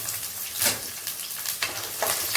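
Garlic and onion frying and being stirred in a pan for a Tamil kuzhambu, a steady sizzle broken by several louder scraping stirs, close and alone.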